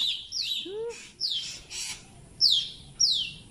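A baby bird held in the hand gives a series of sharp, high chirps and squeaky calls, in short separate bursts that sound close and loud over faint background noise.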